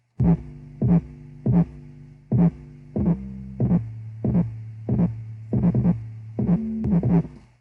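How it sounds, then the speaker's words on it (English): Deep booming 808 bass notes land together with punchy kick drum hits in a sparse, steady pattern, some notes sustaining into a low hum. "the 808 and the kick hit at the same exact time"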